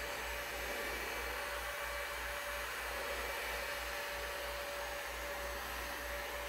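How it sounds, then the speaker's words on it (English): A heat gun runs steadily at full blast, a constant loud rushing whoosh with a low motor hum underneath and no change across the stretch. "My heat gun get up to temperature now."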